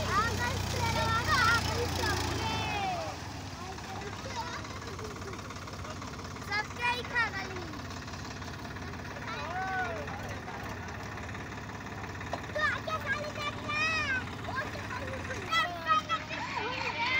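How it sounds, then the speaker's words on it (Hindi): A Swaraj tractor engine runs while pulling another tractor stuck in the ground, holding a steady low, loud rumble near the start that settles into a continuous drone, with people talking and calling out over it. "अब वो ट्रैक्टर आ रहा है"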